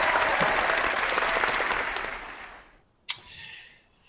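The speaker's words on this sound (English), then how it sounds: "Round of applause for you, sir." A round of applause for a man from a small group in a room, dense clapping that fades out over about three seconds, followed by one sharp clap-like knock.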